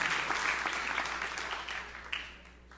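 A church congregation applauding for Jesus, dense steady clapping from many hands that gradually fades toward the end, with a brief louder clap near the close.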